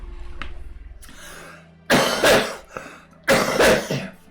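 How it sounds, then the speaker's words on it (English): Coughing and throat clearing from a gamer at a microphone: a faint rasp first, then two loud, harsh bursts of coughs separated by a brief pause, close and alone with no talk. "I'm sorry if I'm coughing."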